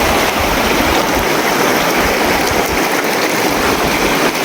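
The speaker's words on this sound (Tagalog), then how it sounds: "Tinaw kayong sapa oh." A clear stream runs steadily close by, a continuous broadband rush of flowing water with no pauses, on a mushroom-hunting walk.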